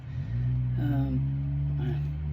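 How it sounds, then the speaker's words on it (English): Car engine revving hard close by, a loud sustained low roar with rising harmonic tones that swells and holds across the whole stretch. "somebody decides to rev their engine really loud"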